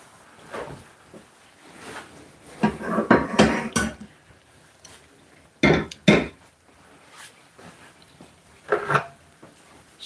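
A cooking pot being rinsed out at a kitchen sink while preparing a tilapia and rice dinner: scattered clanks and splashy bursts, some close and fairly loud, with quiet pauses between them.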